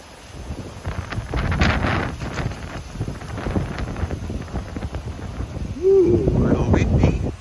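Outdoor wind gusting against a microphone in Tenterfield, a rumbling, buffeting roar rising and falling over several seconds, with a brief voice near the end.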